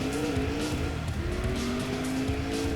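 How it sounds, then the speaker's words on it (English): Race car in Gran Turismo 2 with a loud, high revving engine whine that rises and shifts in pitch, along with tire squeal and skidding. It sounds close and constant, with no speech. "Just listen to that engine."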